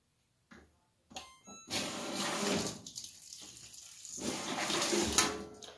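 A GE belt drive washing machine starts filling after a few clicks and beeps, and a steady rush of water pours in close by.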